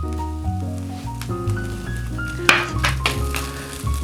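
Corn and mayonnaise sizzle in a hot skillet for Mexican street corn, a soft continuous frying hiss broken by a few utensil clinks and stirring scrapes, close and moderately quiet.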